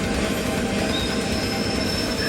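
A steam train rolls past in a video game, a dense continuous rumble with a thin high squealing tone riding on top, loud and close throughout, with no talking.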